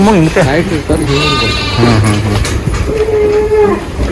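Sheep and lambs bleat repeatedly, close and loud, in a pen on a sheep farm in Bagalkot with Boer goats nearby, with overlapping wavering calls throughout and a person talking at times.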